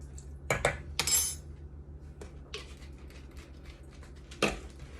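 A utensil clinks and scrapes against a bowl while pumpkin puree and vanilla extract are mixed for low-carb pumpkin bread, a few sharp taps spaced over the seconds with softer stirring between, close and fairly quiet.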